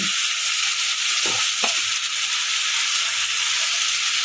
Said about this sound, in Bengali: এটা আমি ভালো করে নেড়ে চেড়ে এটাকে নামিয়ে দেবো